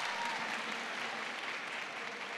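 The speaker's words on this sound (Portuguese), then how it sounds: "Uma salva de palmas!" Summit audience applauding, a brief, steady patter of many hands clapping at moderate distance, fairly quiet and even, with no speech over it.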